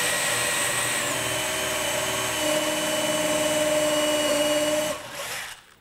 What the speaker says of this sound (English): we could drill that hole dang near down